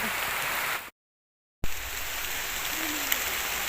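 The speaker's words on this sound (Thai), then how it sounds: "ฝนกระตกวันนี้" Continuous outdoor rain during red ant egg gathering makes an even, hissing wash, broken once by a brief complete dropout before resuming at the same level.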